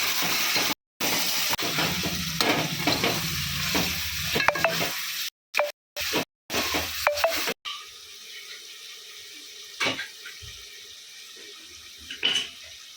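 Mutton curry being stirred in a pan, a steady scraping and sizzling that runs loud for several seconds with brief gaps, then turns quieter with a few soft clinks.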